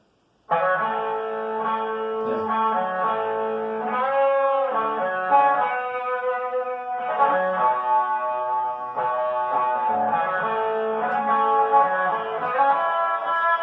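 Two takes of a distorted electric guitar solo, double-tracked and panned hard left and right, sustain in thick, harmonically rich lines with bends and held notes, carrying effects-laden chorus-like shimmer and echo, loud and continuous with no voices.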